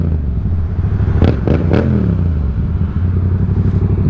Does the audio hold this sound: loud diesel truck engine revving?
yes